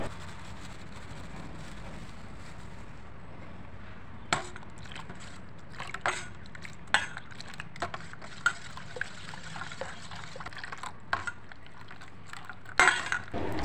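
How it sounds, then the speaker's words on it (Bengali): Powdered milk being stirred into hot water in a bowl while making semolina rasgulla, with scattered faint spoon clinks and scrapes against the bowl over a quiet background. "এর মধ্যে পাউডার দুধ দিয়ে ভালো করে মেশাতে হবে"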